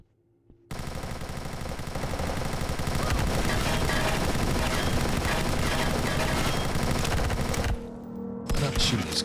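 Rapid sustained gunfire from the video game Zortch, a dense continuous burst of loud shots that starts abruptly and runs for several seconds before cutting off, with a few scattered shots after.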